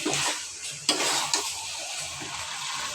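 Beef with sliced green chillies and garlic cloves frying in oil in a pan, a steady close sizzle with a few sharp clinks of stirring, one louder scrape near the start and again at the end.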